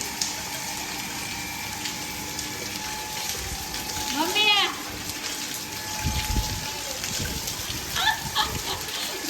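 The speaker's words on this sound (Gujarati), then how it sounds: "હજી મસ્ત મજાનો વરસાદ ચાલુ જ છે" Steady rain hisses throughout as a broad, even wash of noise, with a brief chirping sound and faint voices in the background.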